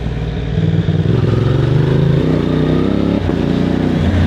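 Moto Morini X-Cape 1200 adventure motorcycle ridden through curves on town streets, its engine droning loud and steady with shifting pitch as it rolls on and off the throttle, heard from on board.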